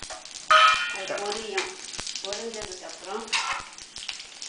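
Spices, including cinnamon, crackle and sizzle in hot oil for a vegetable pulao while someone talks in Tamil over the frying, the sizzle steady beneath her voice.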